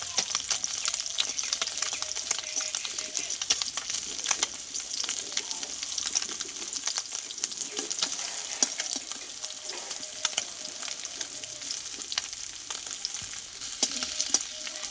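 Continuous crackling sizzle of small puti fish frying in oil, fairly quiet, with occasional scraping taps.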